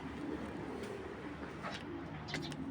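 Soft, low cooing from a short-tailed imported Belgian racing pigeon, murmuring steadily under light ambient noise with a few faint higher chirps.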